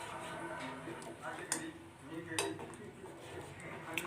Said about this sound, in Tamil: இப்போ நம்ம நல்லா மிக்ஸ் பண்ணிடலாம்.